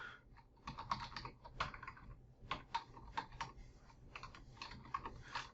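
Keyboard typing on a computer keyboard, with irregular bursts of close, crisp key clicks and short pauses between them while a game-development editor is in use, and no talk over it.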